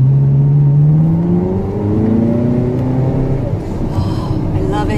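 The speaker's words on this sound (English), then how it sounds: "Give it a little gas." A Ferrari car accelerating as the driver gives it gas, its engine note climbing steadily in a loud, close whir and rumble, with a voice briefly audible near the end.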